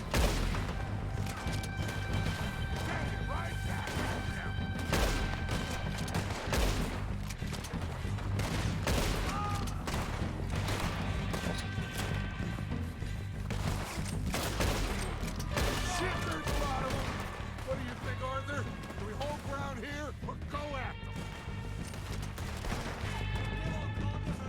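Gunfire in the Red Dead Redemption 2 video game, with repeated shots and volleys in a busy battle under game music and voices.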